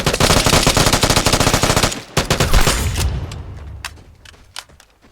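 Rapid bursts of automatic gunfire in the Vigor shooter game, loud and close, hammering continuously for a couple of seconds, then breaking into scattered shots and trailing echoes.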